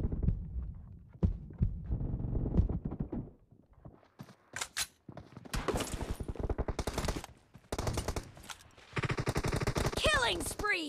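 Uzi submachine gun fire in a team deathmatch video game, with rapid automatic bursts that start and stop repeatedly and get louder and denser toward the end, mixed with game effects and voice callouts.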